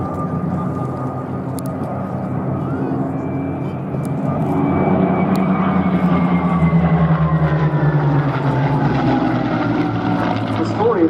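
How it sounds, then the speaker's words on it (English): Propeller fighter engines roar as a pair of P-51 Mustangs chase two Buchon fighters in a late-war dogfight display at the Duxford airshow, a loud sustained drone that swells and shifts pitch as the planes pass. "developing a typical late war dogfight, with the two buchons being in due course hotly pursued by the pair of mustangs"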